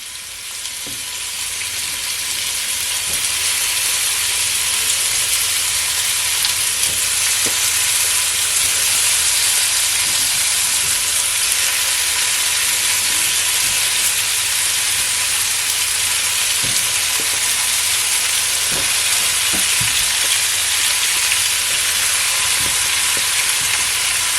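Oxtail pieces for Jamaican oxtail browning in a hot pot make a loud, steady, close sizzle that swells in the first seconds and then holds evenly, with occasional faint clicks and no speech.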